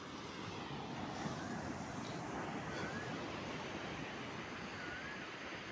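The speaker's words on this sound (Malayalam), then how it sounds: "തിരമാലകളുടെ ശബ്ദം." Sea waves wash in at Calicut beach at night, a faint, continuous, even surf roar with no distinct breaks, heard from a distance with no voices.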